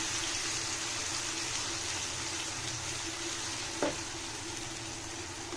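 Mustard and poppy seed paste frying in a hot pan for an egg dish, a steady close sizzle throughout with one brief louder crackle partway.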